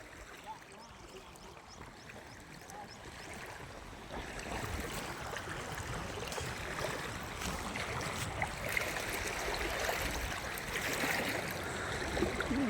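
Broad, steady wash of flowing floodwater covering a road in Tarapur, Gujarat after heavy rain, rushing and splashing continuously and growing slightly louder partway through, with no voices.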